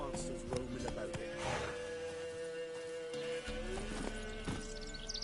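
Horse hooves clip-clop at a gallop in the video game The Witcher 3: Wild Hunt, a steady rhythmic beat mixed with game sounds, a brief whinny and a continuous background bed.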